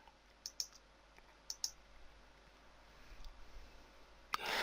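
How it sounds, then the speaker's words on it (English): Quiet, close computer mouse clicks in sleep management software: several sharp double clicks spaced over a few seconds, then a louder rustling burst at the end, with no talking. "So I'll just click next here."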